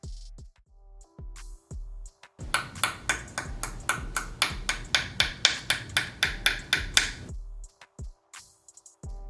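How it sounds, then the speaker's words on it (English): A metal-finish Apple Card is tapped repeatedly, giving a rapid run of bright, ringing pings up close, with a few softer taps before and after the main burst. "Here you can hear as I tap the card."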